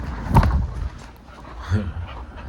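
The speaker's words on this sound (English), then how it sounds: "I got the dogs right here" Dogs in a dog-sitting setting give two short, close barks or yips about a second apart, with soft panting and low background noise between them.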